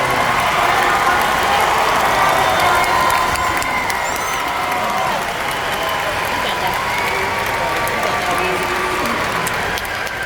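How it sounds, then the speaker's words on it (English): A large commencement crowd at the University of Hawaii at Manoa applauds graduates, a loud continuous wash of clapping with scattered cheers and shouts running unbroken throughout. "Please join me in applauding these graduates."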